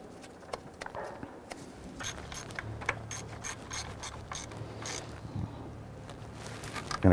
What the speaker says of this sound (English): We're going to go ahead and install that nut on the stud here.